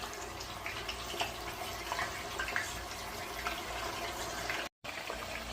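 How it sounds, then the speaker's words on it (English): Pork for slow-cooked carnitas sizzles in hot oil in a pan, a steady, dense crackling hiss with fine pops throughout and no talking. "You can hear it's got a good sizzle going on."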